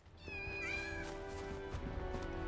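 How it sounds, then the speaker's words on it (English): Kittens in Final Fantasy VII Rebirth give a drawn-out, wavering meow near and clear over soft game music and ambience. "Fluffy kittens!"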